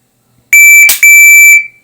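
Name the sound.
shooting drill start beep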